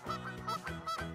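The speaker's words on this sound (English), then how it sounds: "Yes, it's a duck." A farm duck or goose honking in a quick series of nasal calls, four or five distinct blasts close up and alone.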